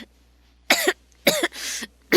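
Three short, sharp coughs ring out close by in a quiet room, the last one drawn out and breathy, with another starting at the end.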